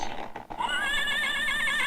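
A horse whinnies loudly and close by, a rising, quavering neigh that holds for over a second after a brief breathy snort, with no talk over it.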